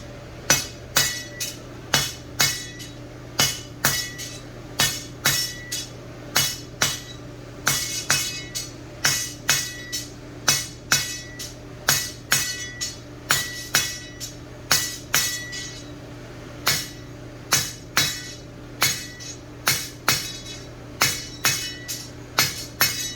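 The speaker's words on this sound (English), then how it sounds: "And I'm hitting all 4 sides. You see I'm right on the edge of that anvil." Hot 1/2 inch square solid steel gate picket forged by hammer blows on the sharp edge of an anvil: sharp ringing strikes in uneven bursts, with short pauses between groups and steady background hum.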